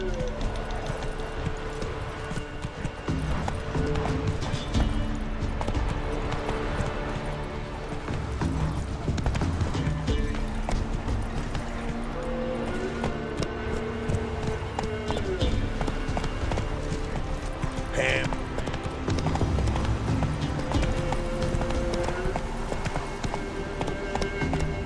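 Roach, a horse in The Witcher 3 video game, gallops with steady rapid hoofbeats running through the whole stretch, mixed with game music and ambience, and a voice briefly speaks over it.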